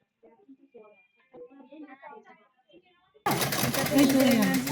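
A sewing machine stitching starts up loudly and runs continuously after a stretch of talking, a dense mechanical whir near the microphone.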